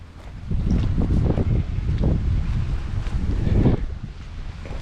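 Steady wind buffets the microphone while kayaking on open water near Titusville, Florida, a continuous low rumble with gusty surges and faint water movement, no voices.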